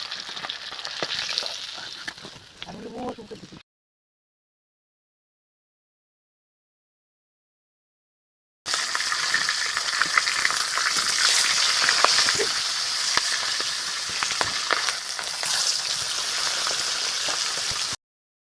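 Fish fry in hot oil with a steady, bright sizzle, close and fairly loud. The sizzle breaks off into silence for several seconds, then returns strongly and continues to the end.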